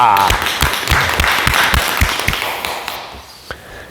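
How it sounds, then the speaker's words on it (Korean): A crowd applauds with steady, dense clapping that fades out toward the end, a few sharp taps standing out. "큰 박수 부탁드립니다"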